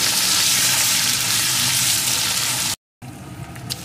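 Chopped onion frying in hot oil with dried red chillies for a spicy Bengali tangra fish curry, a steady loud sizzle that cuts out briefly, then returns with a few crackling pops.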